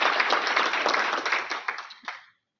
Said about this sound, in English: let's have a big round of applause for Ed.